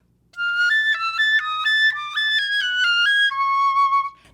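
A flute plays a quick passage from a Karg-Elert etude, a clear run of rapidly changing notes that ends on a sustained, steady tone, solo and up close.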